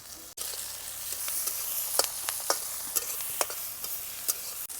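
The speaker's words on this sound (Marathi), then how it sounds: "कांदा टोमॅटो मिरच्या चांगल्या परतल्यात" Onion, tomato and chilies sautéing in a pan give a steady close sizzle, broken by several sharp scraping clicks as a spoon stirs the vegetables.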